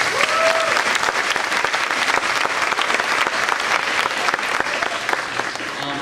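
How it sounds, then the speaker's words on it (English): A school audience claps loudly and steadily at a D.A.R.E. graduation ceremony in an elementary school hall, dense sustained applause with a faint background voice. "Can you please give him a big round of applause?"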